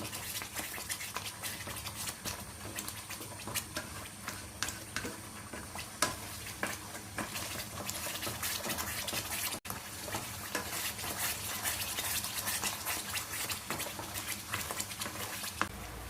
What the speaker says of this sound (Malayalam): ഇനി ഇത് ഇളക്കിക്കൊണ്ടിരിക്കണം.